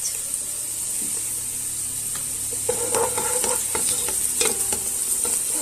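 Golden onions and spices sauté in hot oil with a continuous sizzle, then a spatula starts stirring and scraping the pan in quick, busy strokes partway through, close by and without speech.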